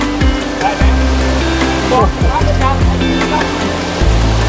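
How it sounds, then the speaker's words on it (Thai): Water pours steadily at Khlong Lan waterfall in a Kamphaeng Phet national park, a loud continuous rushing wash, while people talk nearby. "น้ำใสมีสายน้ำที่ตกออกมา"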